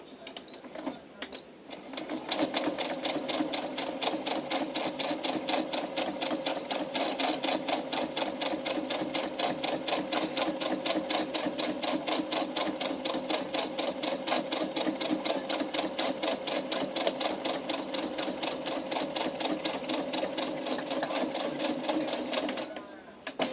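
Sewing machine stitching a fabric sewing caddy, running for about twenty seconds as a close, rapid, regular needle chatter after a brief quiet start, with a voice talking faintly underneath.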